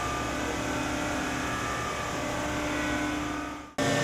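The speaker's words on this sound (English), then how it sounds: "this is one of our mini porting machines. We have several of them that run pretty much 24 hours a day." A CNC mini porting machine cuts a cylinder head in a busy cylinder head factory, a steady, loud whining drone with a sustained tone that cuts off abruptly near the end before resuming.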